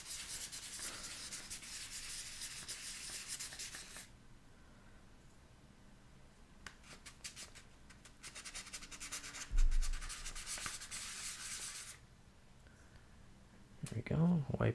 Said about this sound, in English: What I'm doing right now is sanding this base down.